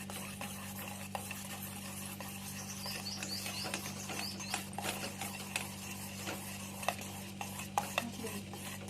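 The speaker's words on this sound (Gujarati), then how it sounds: "અને આપણે આને સારી રીતે મિક્સ કરી લેવાનું છે." A spoon stirs Ayurvedic soap base mixed with a rice and potato blend, giving steady close scraping and clinking strokes in an irregular rhythm over a constant low hum, with no talking.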